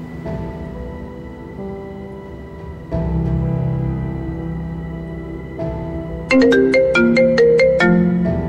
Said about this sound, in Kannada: ಇಷ್ಟೊತ್ತಲ್ಲಿ ಯಾವನ ಫೋನ್ ಮಾಡ್ತಿರೋದು?